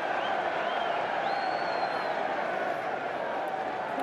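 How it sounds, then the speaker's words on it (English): Stadium crowd at a Super League rugby league match, Wakefield against Hull, cheering a penalty award: a steady, dense roar of voices and applause holding at full level throughout, with no break. "The crowd are really happy with that one."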